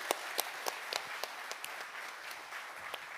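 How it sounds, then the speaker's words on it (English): Conference audience applauding at an opening session, a steady wash of many hands clapping with a few sharper close claps standing out, moderately loud and continuous throughout. "Let's give them a round of applause, ladies and gentlemen."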